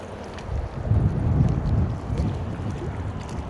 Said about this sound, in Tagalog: Tara, malakas po ang hangin ngayon mga kasang.